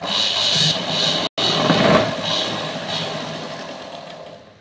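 A sewing machine stitching a folded hem on fabric during a tailoring lesson gives a steady close whirring motor hum, broken by one brief cut, then running on with a slowly fading drone. No one speaks.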